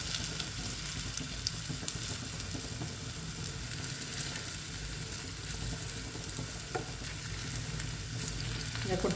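Pieces of papaya are deep-fried in hot oil, giving a steady, close sizzling and bubbling that continues without a break and with no voices.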